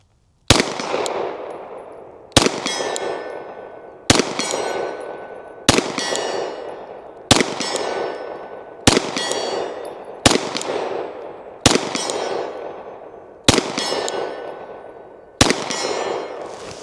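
Glock 49 pistol fired slowly at a steel target 50 yards away on a range, nine evenly spaced loud shots, each sharp crack trailed by a lingering echo and faint ring.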